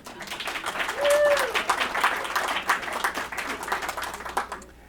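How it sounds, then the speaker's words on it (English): Lively applause and clapping from a crowd at a library's anniversary event, uneven and close, with a brief whistle-like tone early on and the clapping tapering off at the end. "Give yourself a round of applause"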